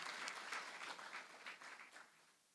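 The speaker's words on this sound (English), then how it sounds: "can we just have another round of applause" An audience at a Model United Nations opening ceremony claps in a soft, distant round of applause that tapers off toward the end.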